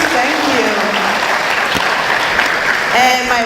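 Loud, sustained applause from an audience at an information systems orientation, dense and even clapping throughout with some voices and a whistle under it.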